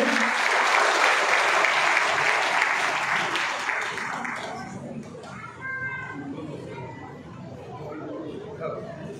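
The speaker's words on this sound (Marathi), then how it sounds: "सर्वांनी जोरात टाळ्या वाजवायच्या आहेत." Audience applause at a school prize-distribution ceremony, dense clapping from a crowd that fades after several seconds into chatter and children's voices.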